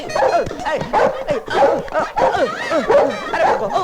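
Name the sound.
dog barking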